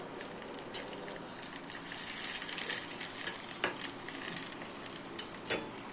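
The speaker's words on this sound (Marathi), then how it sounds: "वर ठेवून मी थोडंसं त्याला सर्व हलवून घेत आहे" Turmeric being stirred into hot oil in a pan for a buttermilk kadhi, giving a steady, fairly quiet sizzle with occasional light scrapes and ticks from the spoon, no voices.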